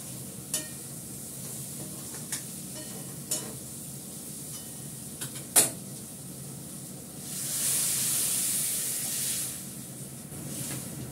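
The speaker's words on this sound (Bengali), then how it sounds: "একদমই কষে গেছে, এবার জল দিয়ে দেবো।" Water poured into a hot pan of sautéed spices for a cauliflower and potato curry sets off a sudden broad hiss of steam midway, after a few sharp clinks and stirring sounds over a faint, steady sizzle.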